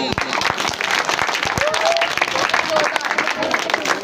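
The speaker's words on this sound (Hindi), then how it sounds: "तो एक बार जोरदार तालियां" Sustained applause from the audience at a children's Christmas celebration, a dense, steady wash of clapping with voices and a brief tonal cry rising over it.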